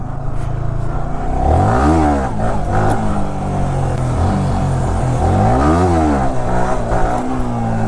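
A motorcycle engine revving hard during a wheelie attempt, two rising and falling rev sweeps close by, with a steady engine drone between them and no voices.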